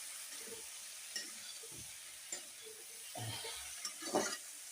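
Mutton frying in a pan is stirred, with a faint steady sizzle under a few scraping strokes and soft clinks of the spoon against the pan.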